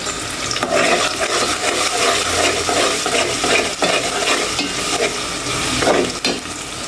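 Onions fry in hot oil in a pan with a dense, steady sizzle and crackle, stirred now and then with a spoon scraping close by.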